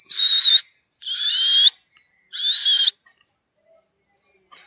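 Small injured sparrow-like chick calling nearby in loud, bright chirping bursts, three longer calls with shorter notes between them, against a silent background.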